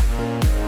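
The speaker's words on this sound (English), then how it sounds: "The kick not filtered sounds like this." Unfiltered EDM kick drum from a festival remix, one loud, deep, booming thump with a punchy attack over a sustained synth backdrop.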